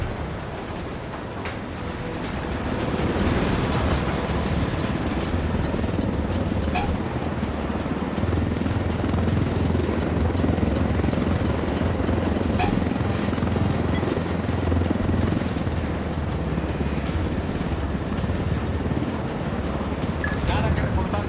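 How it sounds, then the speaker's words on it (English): Military helicopters in the Bolivia-set video game Ghost Recon Wildlands give a steady, loud rotor and engine roar that holds for about twenty seconds after a quieter start, with faint game chatter in the background. "Let's take these choppers out."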